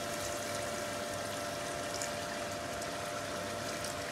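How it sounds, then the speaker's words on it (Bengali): A steady, faint trickle of a little water being poured into a simmering duck curry, continuous and even with no talking. "আমি সামান্য জল অ্যাড করবো, বেশি জল দেবো না"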